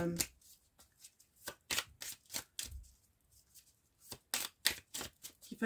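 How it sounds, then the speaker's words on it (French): A tarot card is drawn from the deck, the cards giving off a series of crisp, papery rustles and flicks in uneven bursts, close and fairly quiet. "Alors, je vais retirer une carte."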